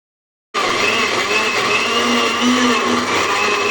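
A blender whirs continuously and loudly while blending mango juice, starting abruptly after a brief silence and holding a steady motor drone with no voices.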